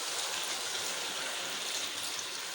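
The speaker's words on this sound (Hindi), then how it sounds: "अब हम इसमें पानी शामिल करेंगे।" Water poured into a mutton karahi pan, a steady, full rushing gush that continues unbroken.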